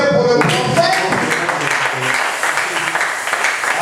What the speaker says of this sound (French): Applaudissez pour le prophète.